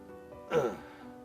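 A voice imitates a low sound midway between a grunt and a sigh, said to resemble a possible Bigfoot vocalization; one short breathy burst near the mic, alone.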